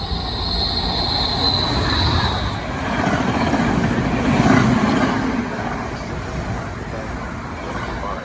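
A train rolls through Princeton Junction station in New Jersey, a steady rumbling roar of rail cars with a high wheel squeal early on, swelling slightly mid-pass and continuing throughout.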